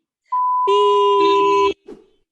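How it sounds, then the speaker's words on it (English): A steady electronic beep tone holds for over a second, joined midway by a second layered tone, then cuts off sharply; a brief faint sound follows in an otherwise quiet background. "Beep."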